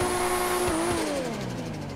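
Twin-turbo Toyota Supra engine from the GTA 5 video game holding a loud rev, then the pitch drops as the revs fall away toward the end, close up with no voices.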